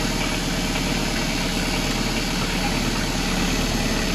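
Kubota tractor engine idling at about 1,050 RPM on a cold day, a loud, steady close-up diesel chug with even knocking pulses throughout.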